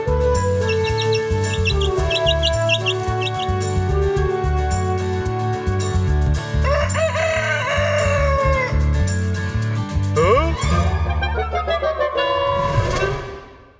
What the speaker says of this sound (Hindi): अब तो सबके पास अपनी मुर्गियों का फार्म है।